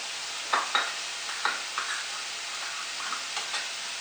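Banh Bao filling ingredients for steamed BBQ buns being mixed together in a bowl: soft wet stirring and squelching with a few sharp clicks and taps spread unevenly, close and fairly quiet, with no talking.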